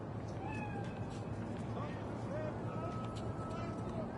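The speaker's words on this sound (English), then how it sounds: "Chill, just a cat." A cat in the video game Cyberpunk 2077 meows several times in short, rising calls over a low background hum and murmur.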